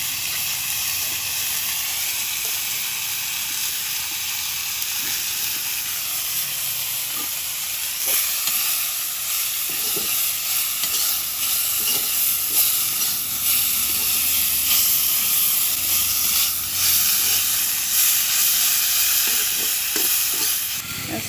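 Finely chopped morolia greens sizzle in a hot pan for a shol fish and tomato curry, with a constant loud frying hiss and scattered soft scrapes and taps of stirring throughout.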